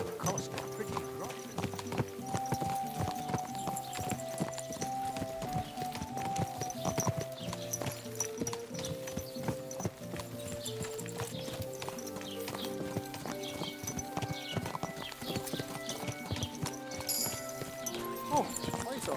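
Horse hooves clip-clopping at a steady trot in Kingdom Come: Deliverance II, rhythmic and continuous throughout, mixed with game music while people talk over it.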